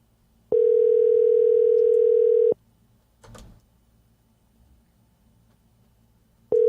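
A steady telephone dial tone sounds loud and clear for about two seconds while placing a call, stops, and then resumes briefly at the end after a short rustle.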